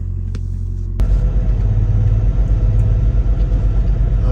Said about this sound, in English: the reefer units are a little warm, or a little loud